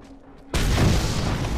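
In Mad Max on PS4, after a brief quiet hum, a sudden loud explosion bursts in and rolls on as a heavy, sustained roar.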